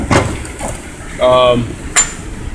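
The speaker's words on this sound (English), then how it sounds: "You just kind of peen them in. They're aluminum and soft. You just hit them with a punch." A punch struck by hand peens soft aluminum rivets while rebuilding a VW Golf or Jetta MK2/MK3 shifter kit: a sharp opening tap, a ringing metallic strike mid-clip, then another crisp hit, close and loud.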